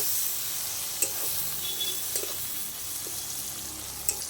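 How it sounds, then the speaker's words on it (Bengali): Chopped tomato fries with onion and garlic in a pan, giving a continuous soft sizzle. A few distinct stirring scrapes punctuate it, close and clear, with no talking. "টমেটোটাও কিন্তু পেঁয়াজের সঙ্গে আমি ভেজে নিয়েছি"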